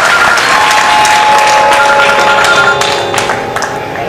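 A crowd applauds at a qawwali performance at Shilpgram, a dense, steady clapping that fills the space, with a faint sustained tone running underneath and thinning slightly toward the end.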